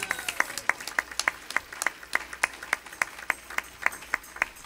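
Church audience claps together in a steady rhythm, crisp and evenly spaced hand claps repeating at a brisk pace against quiet room tone.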